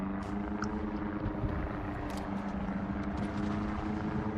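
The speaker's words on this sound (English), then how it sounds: "Oh my god, this plane sound that isn't there." A phantom propeller aircraft engine drone playing as a glitch in World of Warships, a low steady hum with a faint tonal whine throughout, no other sounds on top.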